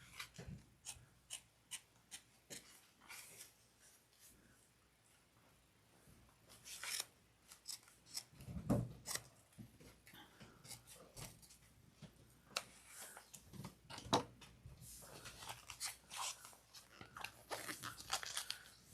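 Scissors trim the exterior fabric of a sewn train case back to a narrow seam allowance, making quiet, close snips and crunchy cuts in irregular bursts, with soft handling rustles between them.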